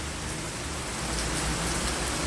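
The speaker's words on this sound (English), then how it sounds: "Raining time in Canada." Steady rain falls in Canada on a summer day near autumn, a dense, even hiss of drops on surfaces with no breaks and no voices.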